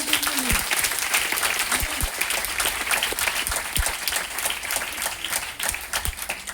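An audience at a business meeting in Patna gives a loud round of applause: dense, sustained clapping from a crowd, steady throughout.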